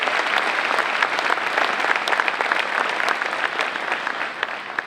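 An audience claps steadily at a scholarship fundraiser, a thick, even roar of many hands with sharp individual claps poking out, loud and unbroken with no voices over it.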